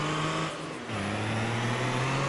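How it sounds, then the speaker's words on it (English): A truck engine hums steadily in the video game Farming Simulator 22, a close continuous drone that briefly dips then rises in pitch as the vehicle speeds up. "I get going too fast in this truck."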